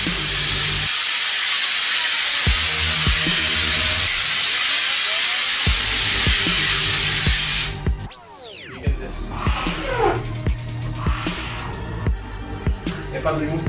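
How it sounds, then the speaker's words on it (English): A portable multifunction steam washer for car detailing sprays a loud, steady, close hiss of steam for several seconds, then cuts off into clicks and handling noises with fainter bursts. "So this is the steaming effect."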